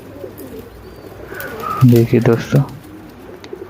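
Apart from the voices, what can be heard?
pigeons cooing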